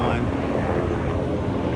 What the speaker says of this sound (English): I think that's like a military helicopter.